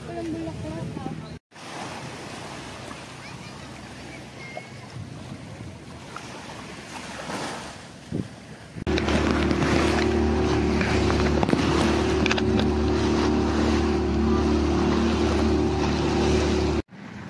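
Wind and rushing water at first, then a loud, steady yacht engine drone with waves splashing against the hull, off Boracay.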